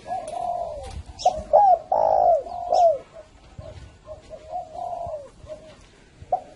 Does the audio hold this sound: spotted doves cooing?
yes